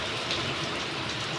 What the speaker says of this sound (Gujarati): બહુ વરસાદ પડી રહ્યો છે.